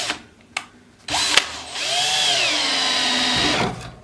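A power drill drives screws through two boards, with a couple of short taps first, then a loud whirring run that rises and falls in pitch as the screw bites and is driven home, close and alone.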